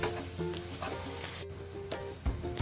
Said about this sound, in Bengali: পেঁয়াজগুলো হালকা লাল লাল করে ভেজে নেব।